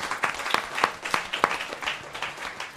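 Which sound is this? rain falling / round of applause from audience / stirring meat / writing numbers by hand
round of applause from audience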